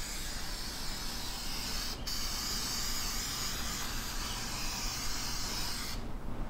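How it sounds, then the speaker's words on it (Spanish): Release spray hissing steadily from an aerosol can as a cake pan is greased for a pistachio sponge cake, a continuous close spray lasting several seconds with a brief break near the start and a sharp cutoff at the end. "Entonces vamos a engrasarlo con spray desmoldante, así como este."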